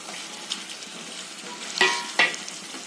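Masala for white egg korma frying in oil in a pan, with a steady soft sizzle and two louder scraping stirs near the end, close and without speech.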